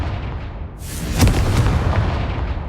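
A Confringo spell blast in the game Hogwarts Legacy bursts in with a loud, close explosive boom, followed by a rumbling, crackling tail and a couple of smaller pops as it dies away.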